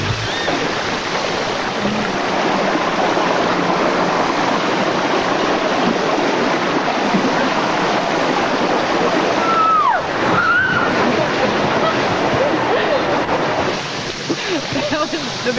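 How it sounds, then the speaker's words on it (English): Riding a very tall water slide at about 60 mph brings a steady loud roar of rushing water and wind buffeting the microphone, with a faint voice rising briefly partway through. "It's like the tallest, fastest water slide I've ever been on."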